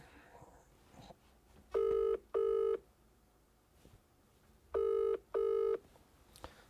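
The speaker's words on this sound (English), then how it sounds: "So if he answers bloody phone." Ringback on an outgoing telephone call: two double-ring bursts, each a pair of short electronic trills separated by a pause, heard clearly over a quiet line.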